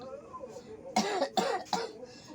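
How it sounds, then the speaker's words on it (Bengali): A sick person with a fever coughs three times in quick succession, harsh and close, after a few quiet moments. "এই কাশিটা বেশি আছে"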